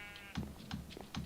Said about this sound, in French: Alors par contre les moutons vous allez vous calmer tout de suite